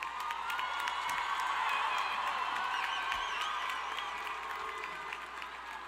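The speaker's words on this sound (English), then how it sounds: "One more round of applause for our graduates," Greenway High School graduation audience applauds and cheers the Class of 2025 graduates, a loud, sustained crowd ovation with whoops and shouts throughout.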